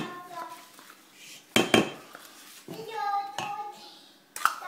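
A spoon or whisk clinks and scrapes against a bowl while cake batter is mixed with fromage blanc, giving sharp, close knocks and rattles amid softer stirring.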